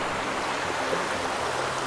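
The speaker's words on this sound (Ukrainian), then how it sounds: "природа, річечка тече." A small river flowing near Manyava waterfall in the Carpathian mountains, a steady, dense rushing of water close by with no other sounds.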